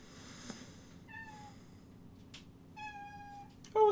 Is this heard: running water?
no